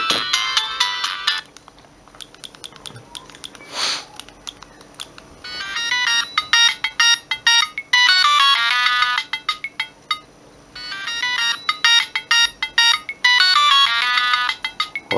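A Siemens A70 mobile phone plays a 32-tone polyphonic ringtone, a bright electronic melody of quick repeated notes in bursts separated by short pauses, loud and alone.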